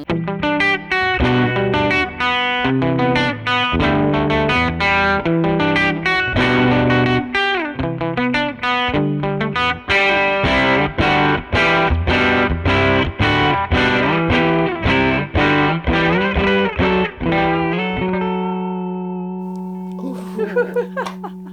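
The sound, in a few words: electric guitar on bridge pickup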